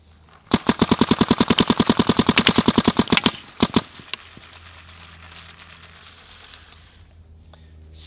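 A Planet Eclipse Geo R5 paintball marker fires a rapid, even burst of about twenty loud, close shots, then two or three more, before fading into quiet background hiss.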